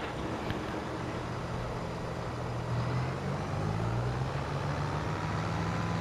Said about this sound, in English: Okay, so let's pop into this tractor.